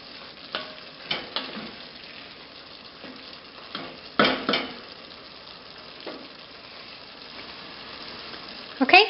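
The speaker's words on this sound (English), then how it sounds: "We're going to let this simmer for a couple of minutes, maybe 2 or 3." A vegetable curry simmers in a pan with a soft, steady sizzle and bubbling, broken by occasional louder stirring clanks and scrapes of a utensil against the pan, close up and without talking.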